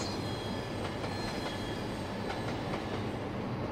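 A TGV Duplex train in the Trainz video game takes a tight curve, with its wheels squealing in shrill repeated bursts over a loud, continuous rumbling roll and no talking.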